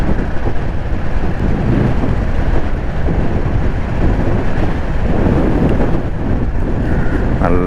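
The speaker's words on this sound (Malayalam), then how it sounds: "നല്ല കാറ്റും മഴയും വരുന്നു." Strong wind and rain buffet the rider of a Jawa 42 motorcycle cruising at around 50 km/h, a dense, steady roar of wind noise over the microphone filling the whole stretch without a break.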